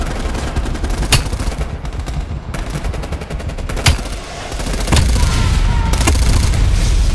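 Gunfire in Call of Duty Black Ops Cold War, sharp shotgun-like blasts at irregular intervals over a dense, constant battle din of rapid shots and rumble, loud and close throughout.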